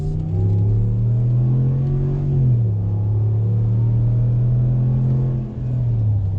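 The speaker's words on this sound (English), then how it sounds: "And so is the sound from the exhaust. That exhaust note is awesome." Exhaust note of a 2020 Ram 1500 Big Horn pickup truck, a steady deep droning rumble heard from inside while driving, with slight pitch dips as the engine speed shifts.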